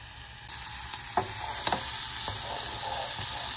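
Bean stew with mushrooms sizzles in a pot with a steady, close frying hiss, broken by a few light stirring clicks and taps, and no talking.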